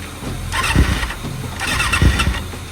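A 2022 Kawasaki ZX6R KRT Edition motorcycle engine cranks over in two bursts, each with a low thump, close by and fairly loud, with no clear catch into a steady idle.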